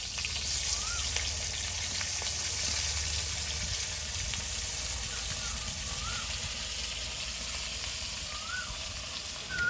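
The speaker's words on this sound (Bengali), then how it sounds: "পটলটা ফার্স্টে ভেজে নিই" Pointed gourd (potol) fries in hot oil, giving a loud, continuous, even sizzle with faint chirps now and then in the background.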